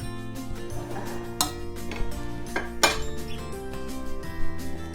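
Dishes and cutlery clink while Isaan-style turkey larb with fermented fish is scooped and served, a steady run of close, bright metal and crockery taps over a tonal background.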